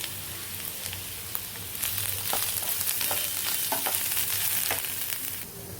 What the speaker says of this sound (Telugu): ఇదిగండి, ఉల్లిపాయలు వేగినవి.